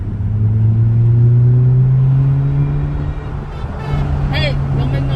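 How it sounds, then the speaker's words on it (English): Engine of a 2019 Honda Civic Sport with a muffler delete, giving a loud, steady low drone with a slight pitch rise, running continuously and close by while people talk over it. "that is what a muffler delete would sound on your car."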